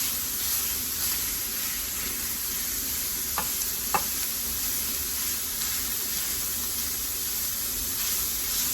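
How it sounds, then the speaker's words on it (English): Sausage cooking on high heat in a pan, a constant quiet crackling sizzle with two brief sharp pops midway, heard close up with no talking. "So our sausage is cooking right along."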